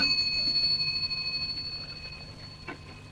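A telephone rings in an old radio drama, its bright electric bell tone sounding continuously and fairly close for about two seconds before fading, with a click near the end.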